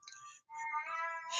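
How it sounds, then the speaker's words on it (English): A pet cat named Mulligan meows loudly and insistently at close range, first a short call, then a brief pause before a long, drawn-out, strained yowl that ends in a rising cry. "He meows like crazy."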